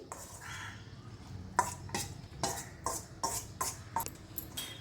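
Soaked sago pearls being tipped into a vessel, with a series of soft clattering knocks and scrapes of a spoon against the container, close by and fairly quiet, no voices.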